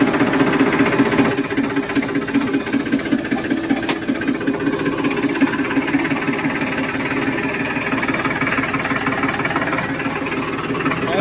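A tractor engine runs steadily and close by, loud and rough with a knocking, idling throb that holds for about eleven seconds, with no talking.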